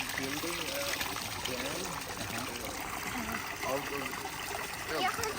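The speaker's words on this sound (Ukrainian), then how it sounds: "Це найсвіжіша, найчистіша вода із джерела" Fresh spring water trickling in a Norwegian forest, a steady, quiet babble under people talking nearby.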